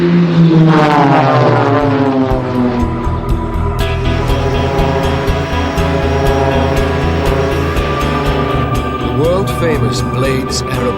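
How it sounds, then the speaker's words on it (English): A propeller aircraft from the Blades aerobatic display team flies past with a loud engine roar and a droning buzz whose pitch slides downward as it passes, then holds a steady hum under a voice talking. "Famous Blades aerobatic display."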